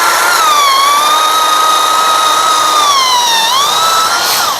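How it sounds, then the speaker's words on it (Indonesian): DongCheng DZJ02-13 drill driving a 13 mm auger bit through mahogany wood in ordinary drilling mode, a loud steady high whine that holds level, dips in pitch briefly near the end under load, then recovers. "mengebor kayu ya. Ini kayu mahoni."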